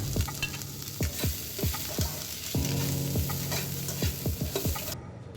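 Chopped green chili goes into a hot pan over high heat with fried onion and ginger for chili chicken, sizzling loudly under brisk, rhythmic spatula scrapes about twice a second.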